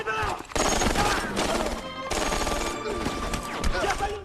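Loud bursts of gunfire and battle clamor from the Korean war film 71: Into the Fire, with shots crackling in rapid clusters and a brief gap near the middle.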